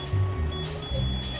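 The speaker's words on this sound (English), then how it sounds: "your low pressure alarm or light should kick in" A truck's air brake low-pressure warning alarm sounds as a steady electronic tone with pulsing repeats, heard alone over a low engine rumble.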